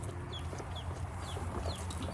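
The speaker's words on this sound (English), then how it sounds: "we're a specialty breeder of layer hens or layered poultry, not just hens" Layer hens and non-aggressive roosters on a pasture poultry farm cluck and chatter in a busy flock, with repeated short calls rising over a low, constant background hum.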